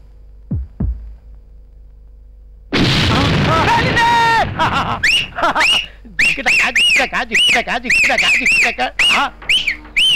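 A couple of soft thuds, a pause, then a sudden loud blast followed by agitated voices shouting and talking.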